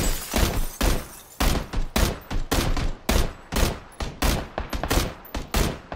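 Gunfire in the battle royale shooter PUBG, a rapid string of sharp, loud shots in uneven bursts, some close together and others spaced, filling the whole stretch alone.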